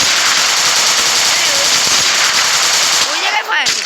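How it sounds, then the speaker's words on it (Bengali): Rapid bursts of gunfire in a video game shooter, dense crackling shots that run loud and continuous before thinning out near the end. "ওই জায়গায় ফায়ার করতেছে"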